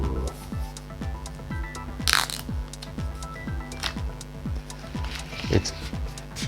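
A brown paper envelope is torn open by hand in a couple of brief, crisp rips and rustles over a steady musical background.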